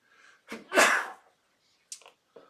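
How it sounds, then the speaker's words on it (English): A single sharp sneeze bursts out after a quick inhale during a tabletop board game, followed by a couple of faint breathy sounds. "thought I was going to sneeze again. Yep, it's coming."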